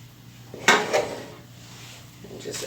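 A metal ice cream scoop shapes chickpea flour hushpuppy batter into balls in a home kitchen, giving a few sharp clinks and scrapes against a bowl, with quiet room tone between them.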